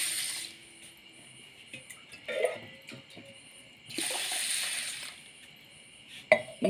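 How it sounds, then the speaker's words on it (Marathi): Pearl millet grains are washed by hand in water for a bajra kharodi recipe, with intermittent swishing and sloshing bursts and light clinks of a vessel, fairly close and quiet. "पाण्याने धुवून काढायची आहे"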